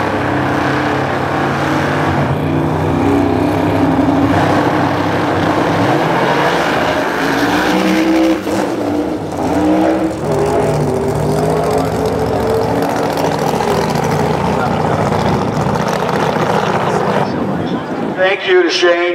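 A drag race car accelerates hard at full throttle, its engine roaring loud and steady at close range for most of the stretch. A trackside announcer talks over the noise.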